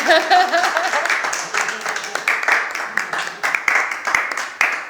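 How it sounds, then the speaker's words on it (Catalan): Audience applause at a theatre performance, a burst of close, loud clapping from a modest crowd that swells and pulses unevenly for several seconds. "Vull aplaudir, eh?"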